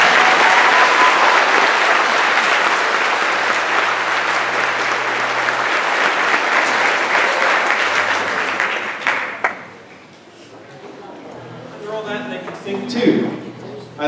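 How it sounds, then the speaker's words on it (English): Loud, dense audience applause at a high school spring choral concert that holds steady for about nine seconds, then cuts off abruptly, after which a voice speaks faintly. "How about a round of applause for us?"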